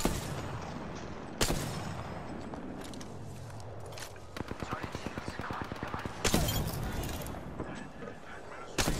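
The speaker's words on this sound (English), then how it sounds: "What the hell is shooting me?" Enemy gunfire in a shooter, sharp scattered shots at first, then a fast rhythmic burst of automatic fire in the middle and a loud blast later, with players talking over the shooting.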